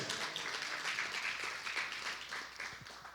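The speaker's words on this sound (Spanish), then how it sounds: "¿Alguien le da un aplauso al Señor?" Applause from a church congregation during a sermon, a steady wash of many hands clapping at moderate distance, fairly faint and continuous throughout.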